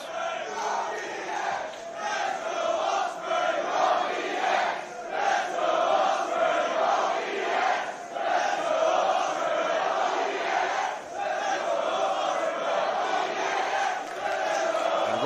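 Wrestling arena crowd at a singles match roaring and chanting continuously, a dense wall of cheering voices that swells and dips with a few brief lulls, no commentary over it.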